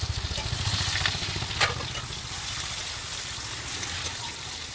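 Steady loud sizzling of cumin seeds and bay leaf frying in hot oil, with a brief clink of a utensil partway through.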